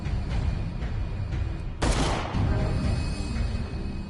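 A single sharp, loud gunshot from the video game Call of Cthulhu cracks out over a low, steady ambient background, with a noisy tail fading after the blast.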